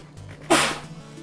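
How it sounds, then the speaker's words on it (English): A single sharp human sneeze bursts out loudly over a quiet background, a short explosive blast that trails off within about half a second. "Had a sneeze."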